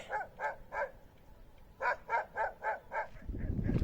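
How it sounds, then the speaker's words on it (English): Dog barks from the far side of a lake in Kyrgyzstan, two bursts of rhythmic repeated barks carried over distance, followed by wind rumble. "a dog has noted my presence and is getting a bit irate with me"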